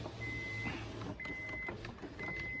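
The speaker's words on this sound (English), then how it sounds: "Hold on, I gotta open my windows." Power windows on a 2002 Acura TL Type S whir down in three short motor runs, each a thin electric whine with a faint thump, close by inside the car with no talk.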